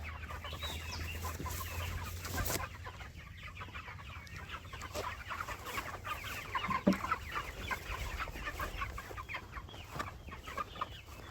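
Chickens cluck softly and steadily in a noisy outdoor setting, with scattered sharper calls and faint background rumble.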